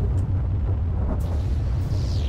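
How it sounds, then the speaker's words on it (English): Gas tanks blowing up in the MechAssault video game, heard as a sustained deep rumbling roar with a few sharper bursts breaking through and no voices. "I always like to blow up those gas tanks"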